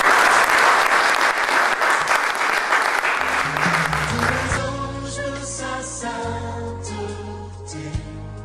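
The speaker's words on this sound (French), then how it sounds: "Est-ce qu'on peut applaudir?" Church congregation applauding loudly as a dense mass of claps, which fades after a few seconds into sustained music with held low tones.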